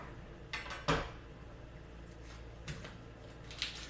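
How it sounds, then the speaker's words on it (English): Knife slicing the end off an onion on a cutting board, a few sharp close chops and taps, one sharper knock standing out, against a quiet kitchen background. "So I'm going to cut the end off the onion here."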